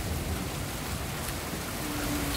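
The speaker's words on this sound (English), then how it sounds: "Rainy day." Steady rain falls on a wet day, a dense, even hiss of drops on surfaces that holds throughout with no voices.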